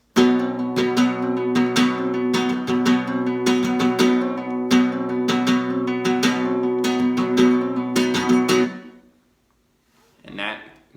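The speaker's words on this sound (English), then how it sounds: "you're going to play 2 compasses of material, and that will be your opener" Rhythmic flamenco guitar strumming, a two-compás siguiriya opener with quick rasgueado bursts and accents, ending in an abrupt muted stop followed by silence and a brief voice.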